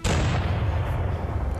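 A cannon fires during a quiz show, a single loud, close boom that rolls into a sustained rumbling decay with no talk over it.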